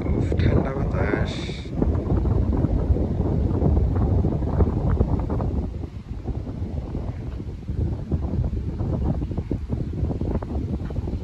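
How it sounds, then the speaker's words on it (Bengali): Cold wind blowing at Akanara Beach in Shenzhen, a loud, gusty low rumble buffeting the microphone throughout, with faint voices underneath. "উফ, ঠান্ডা বাতাস।"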